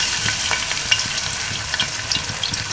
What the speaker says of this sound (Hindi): इसमें मैं अब डाल देता हूँ अदरक, लहसुन और सब्ज़ मिर्च।